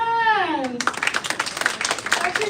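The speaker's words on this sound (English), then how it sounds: "Clap your hands." Scattered hand claps from a group of children at a church ministry training session, bursting in right after a brief adult voice and continuing as an uneven, lively patter.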